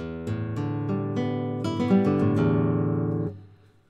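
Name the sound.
flamenco guitar arpeggio, uneven upstroke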